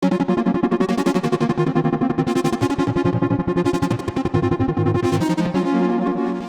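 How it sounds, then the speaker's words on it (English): A synthesizer in Serum 2 plays a sequence of sustained chords with rapid rhythmic pulsing, bright and full, with no voices. "I'm just going to play this chord sequence that we've got that sounds like this."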